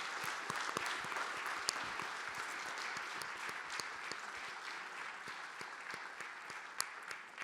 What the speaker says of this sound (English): I think you deserve one more applause